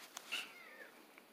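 Kitten meowing during play with a fishing-rod toy, a faint, short mew rising briefly and trailing off, with a couple of soft clicks around it in a quiet room.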